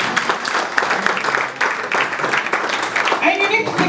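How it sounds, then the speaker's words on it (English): An audience claps at a women's day foundation event, a lively burst of applause with voices talking and calling out over it, rising a little toward the end. "Can we please give her another round of applause?"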